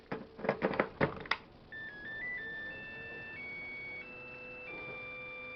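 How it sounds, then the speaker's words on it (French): Electronic beeps from a charger for a BL1850 battery as charging starts: a steady run of sustained tones stepping between pitches, preceded by a few clicks and knocks as the battery is seated. "si ça rentre et que ça se met en charge, une petite sonnerie devrait se mettre en route"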